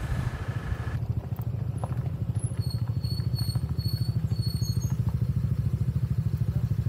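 A Yamaha NMAX motor scooter rolls up over rough, rocky ground at a campsite, its engine a steady low drone with a rapid pulsing beat and some clatter, close and continuous.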